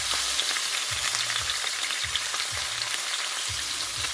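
Mackerel fillet frying skin side down in a hot pan, a steady dense sizzle running throughout at close range with a few soft low knocks of pan movement, no talking.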